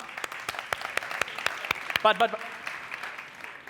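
Scattered, uneven clapping from a conference audience after a card trick with four jokers at a technology talk, a handful of sharp separate claps with a brief voice rising in the middle.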